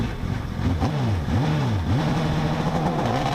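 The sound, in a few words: hillclimb race car launching and revving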